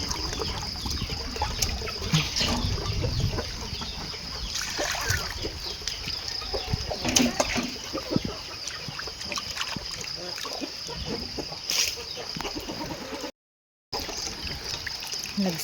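Rainwater running and trickling outside during a thunderstorm, a continuous wet wash with scattered splashes and drips, moderately loud throughout with a brief dropout near the end.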